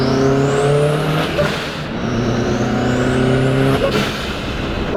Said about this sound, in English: Let's downshift a little bit and see what it sounds like.